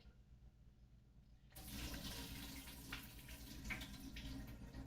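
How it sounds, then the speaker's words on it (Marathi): Toor dal being washed in water: after a quiet start, a sudden rush of running, swirling water continues steadily to the end. "डाळ स्वच्छ धुवून घ्या."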